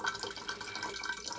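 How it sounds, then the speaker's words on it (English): Water keeps running from a single-handle Delta-style bathroom faucet that will not turn off, a steady hissing splash into the sink, close and continuous with no talk. "It's a single-handled faucet and the water will not turn off."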